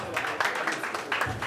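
A wedding audience claps for a jazz band, with steady applause carrying on under a voice speaking over it.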